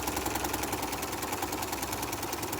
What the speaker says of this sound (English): So we're gonna sew all the way down to the end,